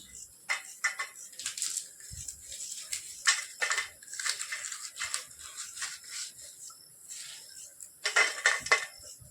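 Garlic cloves peeled by hand in a home kitchen while preparing Kathiyawadi bhaji, with papery skins crackling and rustling in close, irregular bursts of light scratching and rubbing throughout.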